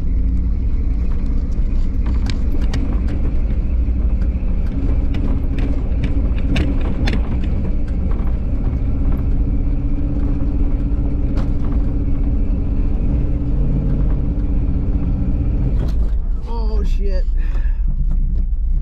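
A K5 Blazer climbing a slick trail, its engine giving a loud continuous low rumble and drone that holds steady and then shifts near the end, close up, with a voice briefly audible over the noise.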